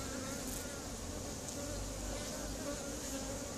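Honeybees buzz steadily and densely at close range while a queen bee tears open a royal cell in the hive, a continuous droning hum with no pauses and no voices.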